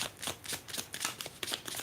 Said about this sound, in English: Superwoman, I'm going to go ahead and shuffle for you.